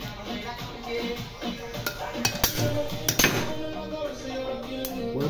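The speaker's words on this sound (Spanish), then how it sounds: "Tan fácil que es sacar esa balinera a la carcasa con la herramienta adecuada." Bearing being pulled from a damaged motor housing with a puller tool gives sharp metallic clinks, taps and scraping knocks at irregular intervals.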